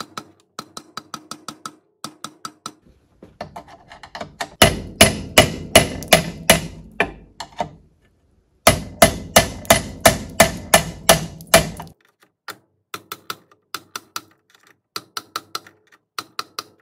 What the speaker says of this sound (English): begin tapping or chiseling to break it loose